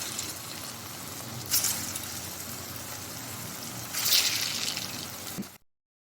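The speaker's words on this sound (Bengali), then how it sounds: "এবার এগুলোকে সব ভেজে নেব।" Chhana koftas deep-frying in hot white oil in a kadai, a steady soft hiss and bubbling with two brief louder surges of sizzle, no voices, ending abruptly.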